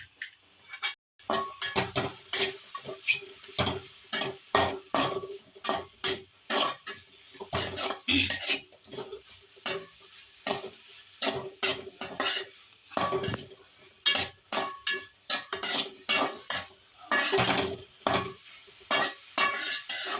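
Chopped coriander is sautéed in a pan, heard as repeated metallic scrapes and clinks of a spoon stirring in quick irregular bursts over a faint sizzle.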